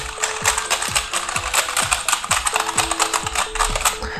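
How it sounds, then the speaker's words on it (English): Fingers sweep across the keys of an Ant Esports KM580 keyboard without pressing them, giving a close, continuous rattling clatter of loose keycaps in a rapid, ratchet-like rhythm, with no voices. "if I just run my fingers over the keys without actuating the keys, it makes more sound than actually clicking the keys"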